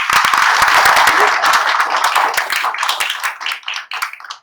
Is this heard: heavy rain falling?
no